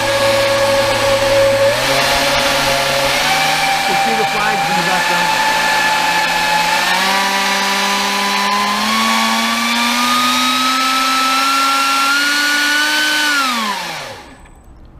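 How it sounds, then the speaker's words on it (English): A ducted fan forced-air turbine runs loud and close with a steady whine that rises in pitch as it speeds up, then winds down sharply at the end; a voice speaks briefly over it. "what I'm going to do is actually turn it on, and you can get an idea of the sound as well as the air velocity coming out"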